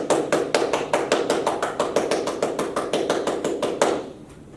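Rapid hand tapping on a surface imitates a sprinter's foot strikes, about twenty crisp, evenly loud taps that speed up steadily over four seconds before stopping, with no talking.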